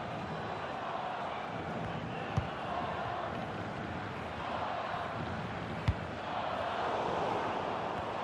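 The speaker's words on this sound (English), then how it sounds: "just listen to the crowd. They want a bit more." Stadium crowd in the football video game FIFA 21, a Netherlands versus Austria match, a broad, distant murmur and roar that swells slightly near the end, with a couple of sharp thuds and commentary voices over it.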